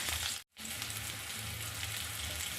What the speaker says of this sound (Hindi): इसको ब्राउन होने तक मैं फ्राई करूँगी